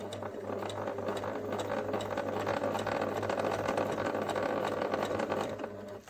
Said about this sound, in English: Just going to sew the last little bit here